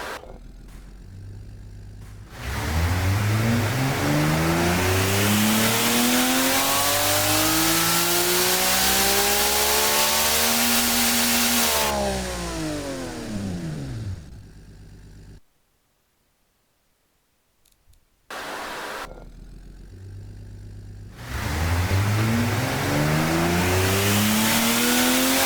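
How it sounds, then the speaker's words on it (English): A simulated straight-six engine, a replica Nissan RB26DET twin-turbo in Automation, revs up hard on a dyno in two sweeping runs, climbing to a loud high-rpm wail and falling away, with a short near-silent pause between the pulls. "I absolutely love the sound of a straight 6."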